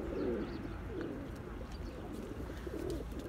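Soft repeated pigeon coos, a few rolling calls spaced across the moment, with faint chirps and quiet outdoor ambience behind.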